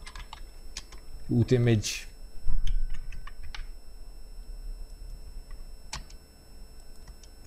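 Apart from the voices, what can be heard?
typing on a computer keyboard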